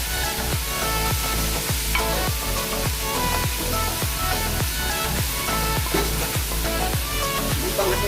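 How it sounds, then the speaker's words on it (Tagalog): Chicken with black pepper, salt and curry mix sizzles loudly in a hot pan as it is stirred, with a rhythmic series of scraping strokes repeating about twice a second over a steady frying hiss. "At mix po natin ang mga ingredients"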